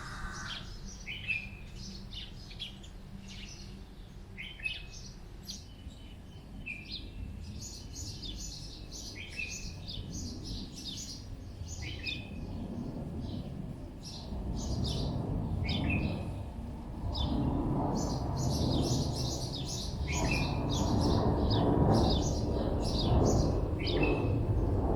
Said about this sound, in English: see if I can capture some bird sound for my forest